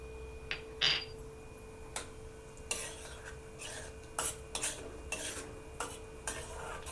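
Raisins being sautéed and stirred in ghee in a pan for moong dal halwa, with soft scraping stirs and light clinks of a spoon at irregular intervals over a quiet background hum.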